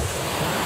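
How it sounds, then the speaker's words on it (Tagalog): Strong wind roars across the microphone in a dense, continuous rush, with water surging in the background. "Lakas ng hangin dito oh"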